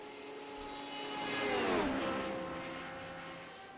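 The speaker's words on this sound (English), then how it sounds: "Then the turbo kicks in." A turbocharged Radical race car approaches and sweeps past at Watkins Glen, its engine note swelling from faint to loud and then dropping in pitch as it fades away.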